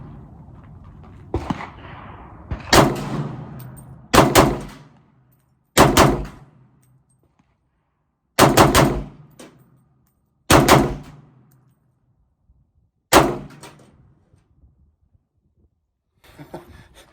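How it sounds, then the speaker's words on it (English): Short rapid-fire bursts from an AK-47 rifle loaded with a 60-round magazine, shot outdoors: about seven loud, sharp bursts spaced a second or two apart, each ending in a quick ringing decay, with no talking. "Let's get a couple little rapid fire bursts, see how we do."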